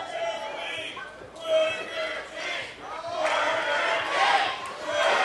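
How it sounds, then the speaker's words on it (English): A wrestling crowd at the ECPW Expo 2025 exhibition event chants in loud, rising waves of massed voices, swelling and dipping across the arena. "And you hear the Burger King chants."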